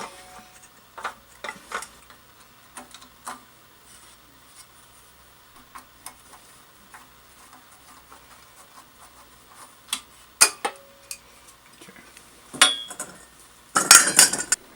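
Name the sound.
taking the air cleaner off a generator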